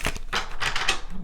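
Quick, crisp riffling and slapping of tarot cards being shuffled, several bursts in a row, close by with no voices.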